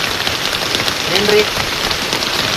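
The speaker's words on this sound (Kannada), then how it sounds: "ಆದರೆ ನೋಡ್ತಾ ಮಳೆ ಜೋರಾಯಿತು" Heavy rain pounds a farm shed in a dense, loud, continuous roar, with a person briefly speaking over it.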